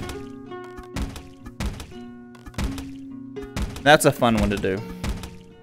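Bow arrows fire in the Rec Room video game with sharp thunks at a quick, even rhythm, roughly one every second, each with a short ringing tail. A voice speaks near the end.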